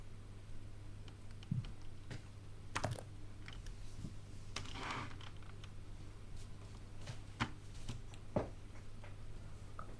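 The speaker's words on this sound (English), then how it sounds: "She's typing." Typing on a computer keyboard during an online session, with scattered, fairly quiet key clicks and a few sharper taps over a steady low hum.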